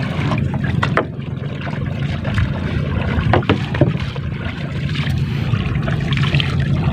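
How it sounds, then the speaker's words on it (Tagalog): A small wooden fishing boat is steered through water near Mabini, Bohol, with sloshing, lapping water and occasional knocks and splashes against the hull, close and continuous. "minamaniobran na aking pinsan yung aming bangka"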